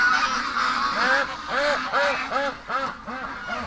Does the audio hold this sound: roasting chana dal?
no